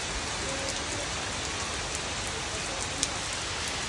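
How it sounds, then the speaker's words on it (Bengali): Heavy rain pours in the Sundarbans forest, a dense, steady hiss of rainfall close by with faint drips and taps scattered through it. "আবার বড় বৃষ্টি নেমেছে, এক দৌড়ে ঢুকে পড়তে হলো ছাউনির নিচে।"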